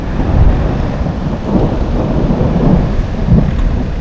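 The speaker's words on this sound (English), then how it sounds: "I was right about the storm." A thunderstorm with heavy rolling thunder over steady rain, a loud, continuous low rumble that swells in several surges and never stops, with no voices.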